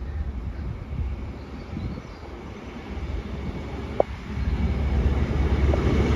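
An HST high speed train with a class 43 power car passes through a station near Warrington, a broad steady rumble of wheels and engine that builds toward the end, with one short sharp click midway.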